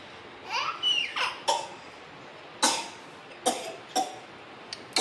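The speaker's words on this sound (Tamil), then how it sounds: "சளி பிடிச்சிருக்கு குழந்தைக்கு இருமல் சளி" A small child with a cold and chest congestion babbles briefly, then gives a few short, sharp coughs spaced out over several seconds, heard nearby against a quiet room.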